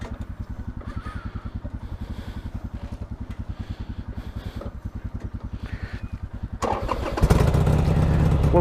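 A Harley Davidson 883 Sportster motorcycle engine cranks with a fast, even, loud chugging rhythm of the starter for several seconds without catching, then a sudden louder, denser mechanical whirring and rattle takes over at the end.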